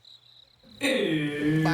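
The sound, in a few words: crickets chirping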